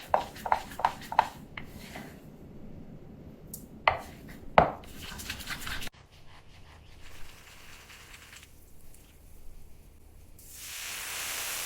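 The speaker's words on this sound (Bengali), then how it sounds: "দেশি লম্বা বেগুন পাতলা স্লাইস করে নিন" Long local eggplant being sliced thinly with a knife: a quick run of crisp cuts at the start, then two more sharp chops, over faint background hiss.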